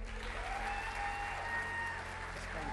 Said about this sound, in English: I get a round of applause for Will?